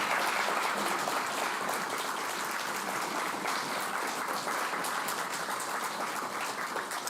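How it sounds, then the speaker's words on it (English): Sustained applause honours an environmental award recipient at an Ohio ceremony, a dense, even roar of clapping from a sizeable crowd lasting several seconds without a break. "if we could join in applause for Dorothy"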